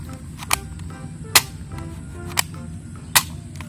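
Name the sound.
toy sniper gun firing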